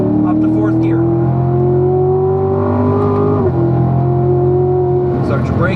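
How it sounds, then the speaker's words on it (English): Race car engine on a track pulling steadily under smooth acceleration, a loud continuous engine tone rising in pitch, dropping briefly at an upshift into fourth gear, then climbing again. "Nice smooth acceleration. Up to 4th gear."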